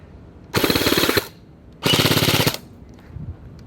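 Two short full-auto bursts from a toy gel blaster, each a loud, fast rattling string of shots lasting under a second, separated by a brief pause.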